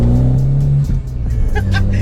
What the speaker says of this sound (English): little pop from the exhaust there.